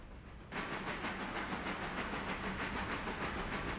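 Railroad cars rolling along track in the Railroader train game, a quiet start followed by a sudden steady rumbling roar with rhythmic clickety-clack pulses and hiss, sustained and close.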